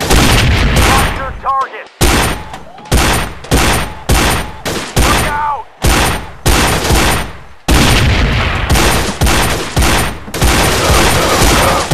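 A CZ 75 pistol fires repeatedly in Gun Club VR, about a dozen loud, sharp shots, each followed by a decaying echo, at an uneven pace with short pauses between them.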